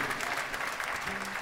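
An audience applauds an orchestra at a jazz-style concert, a dense, steady wash of clapping from a crowd, with a voice speaking over it.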